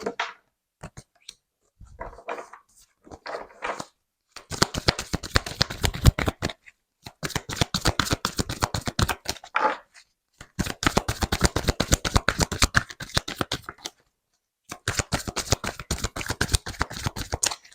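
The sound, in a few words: tarot cards being shuffled for a reading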